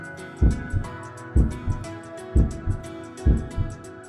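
A heartbeat sound effect in a voice drama thumps in paired lub-dub beats at a steady rhythm. Four heavy, close, low-pitched double beats play alone over a faint hum.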